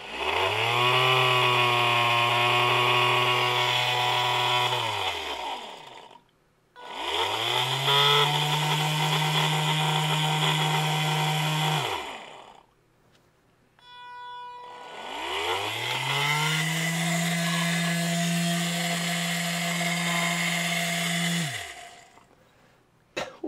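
A DC motor running at 12 volts through a TIP120/TIP125 H-bridge gives a steady, loud whine with strong harmonics in three long runs. Each run spins up quickly and is separated from the next by a short pause.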